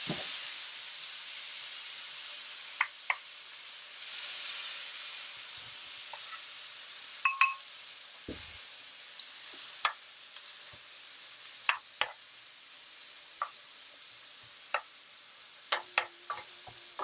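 Jerk shrimp cooking in a pan over low heat, giving a soft, steady sizzle with scattered small ticks and pops throughout.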